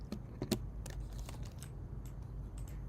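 Keys on a computer keyboard being pressed for a copy-paste shortcut: a few faint, quick clicks and taps close by, scattered over about three seconds of quiet room tone.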